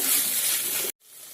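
A short burst of bright, hissing sizzle from sweet corn frying in a pan, cutting off abruptly and leaving quieter frying behind.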